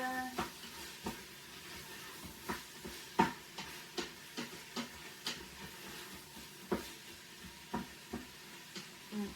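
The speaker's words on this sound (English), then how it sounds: "Give it a good stir." Mushrooms are stirred in an Instant Pot, a spoon scraping and tapping the pot in a steady rhythm of soft, repeated strokes over a faint, continuous sizzle of frying.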